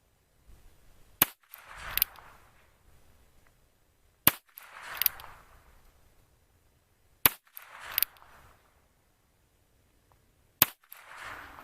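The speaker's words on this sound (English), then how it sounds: "I'm going to continue shooting at that golf ball." Four sharp revolver shots from a Ruger Wrangler fired at a golf ball outdoors, each crack followed by a brief echo, spaced about three seconds apart.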